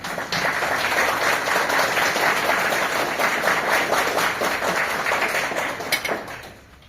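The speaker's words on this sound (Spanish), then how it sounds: "a quienes agradecemos por su presencia y recibimos con fuertes aplausos" Sustained audience applause for a book author at a law book presentation in Peru, dense clapping filling the room for several seconds before tapering off at the end.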